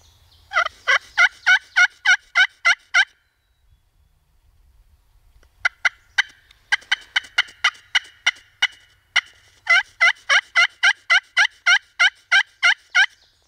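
A wild turkey gobbler in the woods on opening day of a public-land hunt gobbles loudly and close, in three bursts of rapid rattling notes separated by short silences, with no talking.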